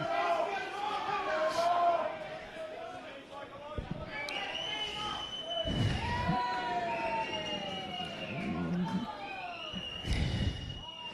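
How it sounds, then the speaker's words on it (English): Home supporters' crowd at a semi-professional football match at CB Smith Stadium, with a continuous murmur, shouts and chanting voices rising and falling throughout, under nearby commentary talk. "Some good banter from the crowd here at CB Smith Stadium"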